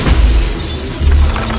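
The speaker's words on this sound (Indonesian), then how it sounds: "Mengambil sepeda dan melempar ke jendela, memecahkan kaca." A bicycle is hurled through a window, its glass shattering in a loud burst with low booming thumps and a bright crash at the start, then a second heavy impact about a second later.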